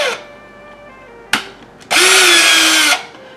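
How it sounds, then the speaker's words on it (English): A power drill whirs briefly, clicks, then bores loudly into wood for about a second before stopping; close and isolated. "So I will drill here"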